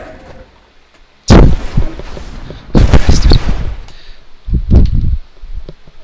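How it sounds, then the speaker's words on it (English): Grenade blasts in the co-op shooter Borderlands 2: a sharp loud explosion followed by a rumbling cluster of further bangs and a smaller burst of impacts, heavy and close. "Grenade!"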